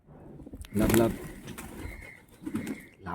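Pigeons coo close by in a soft, throaty bout, partly under a person talking nearby.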